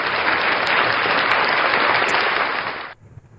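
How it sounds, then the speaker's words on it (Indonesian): Steady crowd applause, loud and dense, continuing for about three seconds before cutting off abruptly into near silence. "Tepuk tangan dulu."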